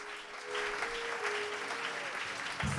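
A church congregation claps together in a sustained, even burst of applause that holds steady for a few seconds, with a voice briefly heard at the very end.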